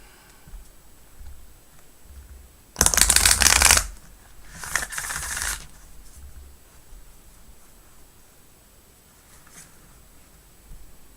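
Tarot cards shuffled and bridged in an arch, two brisk riffling bursts close by, the first louder and longer, followed by quiet room tone.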